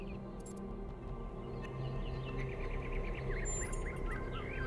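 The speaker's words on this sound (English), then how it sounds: "Do you hear the birds chirping outside the dome?" Birds chirp and tweet outside a dome in the video game The Talos Principle 2, a scatter of quick, moderately clear calls over a steady low ambient hum.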